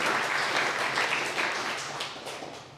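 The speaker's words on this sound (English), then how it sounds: "Round of applause for Robin." Audience applause for a colleague at a quarterly business meeting, a steady crowd of clapping hands that holds dense and even, then thins and fades slightly toward the end.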